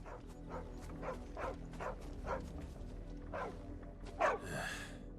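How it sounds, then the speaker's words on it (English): A dog in the Final Fantasy XVI video game barks repeatedly in a quick, uneven series of short woofs over a low in-game ambient bed, ending with a sharper, louder yelp near the close. "Is that not the same dog I saw in that other village?"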